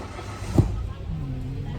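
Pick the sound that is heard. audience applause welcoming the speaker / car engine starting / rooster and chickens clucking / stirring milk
car engine starting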